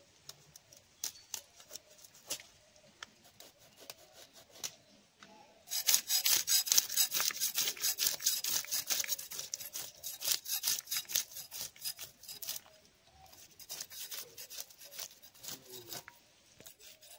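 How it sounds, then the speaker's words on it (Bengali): Scraping scales off and cutting a kalbaus fish in a home kitchen, heard as rapid rasping, scraping strokes. They are softer at first and then louder and denser in a busy stretch midway before easing off again, with no talk. "তো প্রথমে মাছটাকে ভালো করে কেটে নিচ্ছি।"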